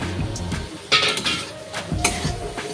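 Pieces of drumstick (moringa) are tipped into a pan of spice paste fried in oil until the oil separates, giving a few sharp clinks and clatters of metal cookware near one and two seconds in a quiet home kitchen.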